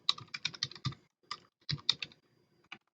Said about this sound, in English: I'm going to type in a student email.